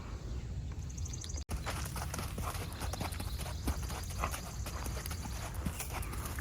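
Hooves of a draft horse and Tennessee Walker cross clip-clop at a steady walk, close by, repeating evenly throughout over a low rumbling background.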